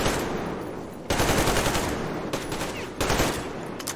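Gunfire in a first-person shooter video game: sustained rapid automatic bursts, loud and close, broken by short pauses, with no talking.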